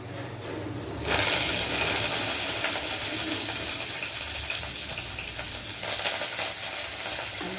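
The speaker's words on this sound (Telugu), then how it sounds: "ఆవాలు ఇంకా ఇవ్వండి ఉల్లిగడ్డ వేసేద్దాం" Onion and mustard seeds frying in hot oil in a pan, a loud, steady sizzle that swells suddenly after a brief quiet start and hisses on continuously, close up, with no talk.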